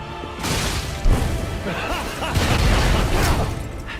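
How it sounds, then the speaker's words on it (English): A video game explosion from Lies of P, a loud crash and boom with a sharp impact near one second, followed by a sustained rumbling blast layered with clattering debris and game effects throughout. "That explosion is dumb."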